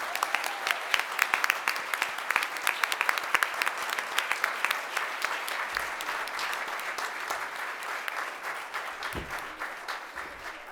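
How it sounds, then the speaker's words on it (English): An audience at a leadership forum breaks into sustained applause, a dense, even patter of many clapping hands that builds quickly and then slowly thins toward the end. "Let's give them one more round of applause"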